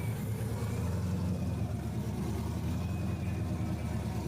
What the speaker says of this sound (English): Moyad Hamad warming up the tyres on this Nissan Silvia